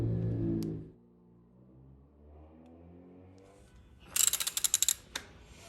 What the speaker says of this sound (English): This is screwing into that star nut